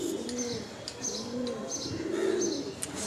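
Pigeons coo softly in repeated throaty phrases at a pigeon market in Uluberia, Howrah, close and fairly quiet, with faint chirps in the background.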